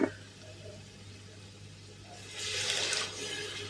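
A little hot water is poured into a pan while cooking macaroni with chicken, a quiet background hum swelling into a brief rushing splash near the end.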